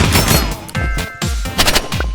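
Rapid assault rifle fire in a video game, loud repeated bursts of shots with booming low thumps, continuous and close.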